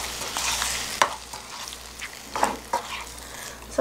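Cream sauce tteokbokki with rice cakes being stirred in a pan, a soft sizzle with scraping spoon strokes and a few sharp clinks against the pan, close and fairly quiet.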